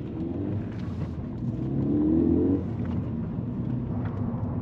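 A Ford Fiesta ST200's 1.6 turbo engine hums and rises in pitch as it accelerates, a steady mid-range drone with a brief surge, no talking.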